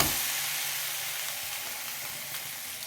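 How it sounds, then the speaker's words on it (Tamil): A thin poha roti laid on a hot griddle sizzles in a steady, bright hiss that holds evenly for about three seconds, close up and with no voices. "இந்த தட்டி வச்ச ரொட்டியை நாம் எடுத்து அப்படியே கல்லில் சேர்த்துடலாம்"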